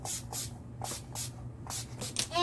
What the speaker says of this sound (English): I will then get our Oil Strike spray